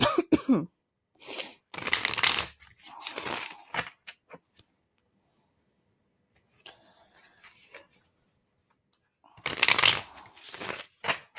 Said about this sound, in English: We're going to shuffle it a few times.